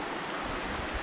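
A creek flowing on a three-day hike on Vancouver Island, a continuous close broadband rush of moving water that holds at an even level with no talking.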